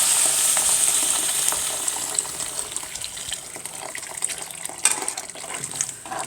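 Boiling water poured onto basmati rice in a kitchen, a continuous close gushing splash that gradually eases with small bubbling crackles, no one talking.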